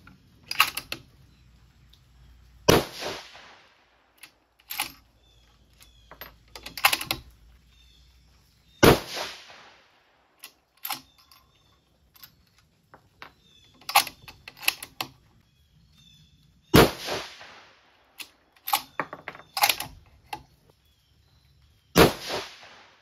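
Five sharp, loud rifle shots from a 6mm Dasher firing 105-grain hybrid load, spaced a few seconds apart with quieter clicks and handling noises between them.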